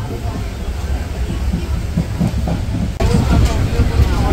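Interior of the moving 12858 Tamralipta Express between Digha and Howrah, with a steady rolling rumble and faint rail clatter; a voice speaks over the running noise.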